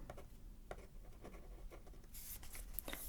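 A pen writes on paper in quiet, close-up scratchy strokes, with short strokes and taps growing slightly brighter and busier toward the end.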